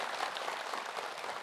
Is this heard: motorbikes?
no